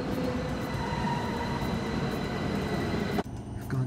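A Tozai Line subway train arrives at Minami-Sunamachi station with a loud, continuous rumble and rail roar close by. It cuts off abruptly near the end.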